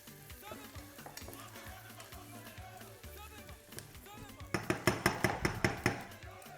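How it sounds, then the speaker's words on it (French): Onions cooking gently in butter in a pan give a soft, steady sizzle. Spoon or utensil taps and stirring scrapes come in sharper, rhythmic clusters near the end. "On va laisser confire tranquille dans le beurre."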